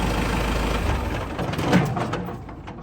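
Tractor running a Land Pride WC1504 wood chipper through its PTO, steady low engine rumble that drops and fades as the PTO disengages and the engine winds down, with a few faint clanks near the end.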